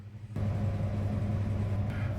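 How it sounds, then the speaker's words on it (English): A washing machine starts a low, droning rumble that continues steadily and fairly close, with a faint higher whir near the end. "Sorry about the noise, the washing machine's going."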